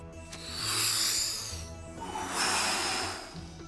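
Two slow, deep breaths drawn close and loud, each a long airy rush with a soft snorting edge and a pause between them, with no talking.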